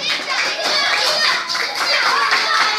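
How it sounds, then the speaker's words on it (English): Children in a third-grade English class clap their hands together in quick repeated rounds, bright and close, with children's voices mixed in. "Clap, clap."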